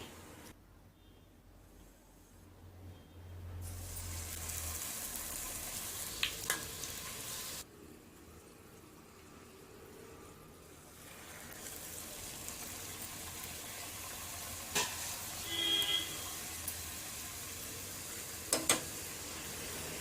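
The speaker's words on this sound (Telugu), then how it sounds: "ఇప్పుడు ఆయిల్ అనేది బాగా వేడెక్కింది ఇప్పుడు చపాతి మనం మనం చేసుకున్న చపాతీని ఇందులో వేసుకోవాలండి" Puri dough dropped into hot oil in a kitchen pan gives a steady, moderately quiet sizzle and bubbling fry, with a few faint clinks of a utensil over about twenty seconds.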